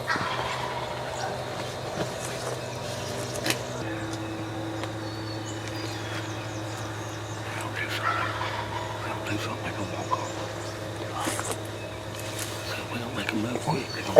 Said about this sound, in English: They're back there gobbling right now, just wanting to see their hen.